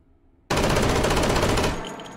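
An M1911A1 .45 pistol fires on full auto in the VR game H3VR: one sudden, loud, continuous burst of rapid shots lasting just over a second, then a ringing tail, with no voices.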